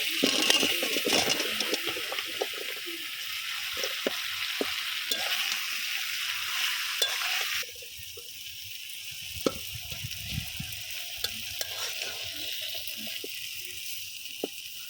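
Bottle gourd goes into spices frying in a pan for a curry with a large rui fish head, giving a loud, busy sizzle that drops sharply partway through, then quieter frying with scattered scrapes and stirring knocks; no talking.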